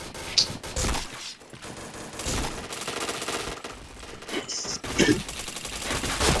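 Video game gunfire rattles in dense automatic bursts, loud and close, with brief lulls, a few distinct single shots and small electronic chimes layered over the action.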